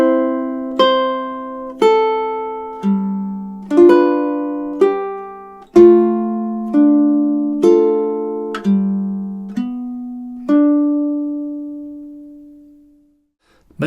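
A ukulele plays a slow passage of the Mexican folk song Cielito Lindo. Distinct plucked chords and melody notes ring out at an even pace, then the last chord is left to fade into silence.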